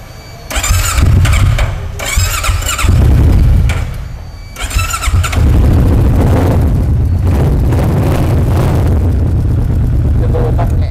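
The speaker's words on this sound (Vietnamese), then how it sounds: "Cái bô tắt nhẹ nghe cũng ấm." Motorcycle with an aftermarket exhaust fitted, started up and revved through the pipe: loud, close bursts of engine roar rising and falling, then a sustained rough idle, with people talking at times.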